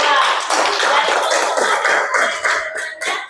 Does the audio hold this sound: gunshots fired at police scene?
no